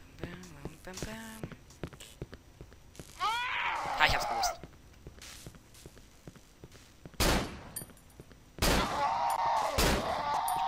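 Several sharp gunshots from the survival horror game Cry of Fear, set in a prison, loud cracks spaced apart among footsteps and game noises, with someone talking over them.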